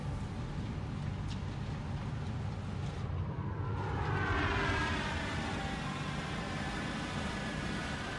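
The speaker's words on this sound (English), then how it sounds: "there's the freighter returning" A freighter vehicle returning in Satisfactory, a steady broad engine roar with a jet-like whoosh that sweeps and swells midway before settling, fairly faint and alone.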